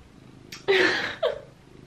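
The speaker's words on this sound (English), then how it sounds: "there's a cat down here" A house cat makes a short, close, breathy vocal sound, one rough burst followed by a quicker second one, against a quiet indoor room.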